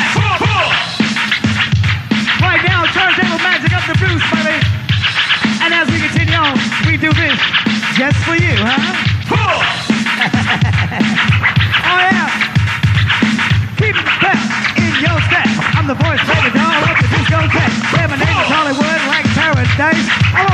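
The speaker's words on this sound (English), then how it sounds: "So check out Mike Music on the funky scratch. Right now, turntable magic" Turntable scratching by a DJ at a 1984 rooftop party, continuous rhythmic record scratches cutting over a dense funky beat, loud and up front with voices mixed in.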